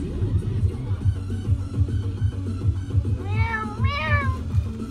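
A cat meows twice, fairly close and clear, over a low engine-like rumble.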